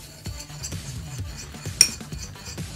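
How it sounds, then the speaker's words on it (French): A spoon stirs a thick fake-blood mixture of caramel and red food colouring in a bowl, giving soft repeated scraping strokes and light clinks, with one sharper tap near the end, fairly close and quiet. "Donc je vais mélanger."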